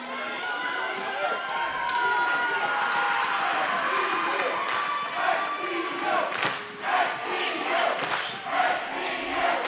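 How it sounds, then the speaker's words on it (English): Spectators cheer and shout steadily through a men's college volleyball match between the Knights and Randolph-Macon, a dense roar of crowd noise with a few sharper swells of yelling near the end. "Crowd trying to rally"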